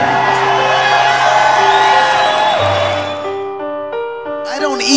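A large arena crowd of fans in Manchester screams, whoops and cheers in a loud sustained roar that fades toward the end, with bright shouted voices rising above it.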